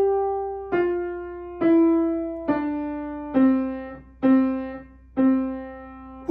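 Piano notes played with the right hand only, struck one at a time, about seven in a slow steady rhythm, each ringing and fading, a thin single line with no left-hand accompaniment.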